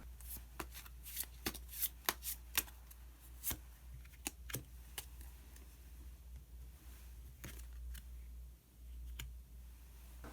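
Tarot cards are shuffled and drawn in a quiet room, with a run of sharp riffling snaps and soft slides in quick bursts, close and clear, under a low constant hum.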